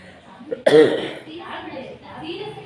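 A person suffering from a cold gives one sharp, harsh cough, close and loud, followed by quieter talking.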